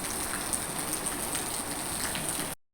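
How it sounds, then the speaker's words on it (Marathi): Heavy rain pouring down hard on surfaces, a dense, steady hiss of drops close by and loud, cutting off abruptly at the end. "खूप जोरात पाऊस चालू आहे"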